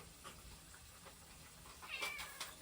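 A cat meows faintly at feeding time while kitten chow is put out, giving a couple of soft, brief mews near the end over quiet room noise.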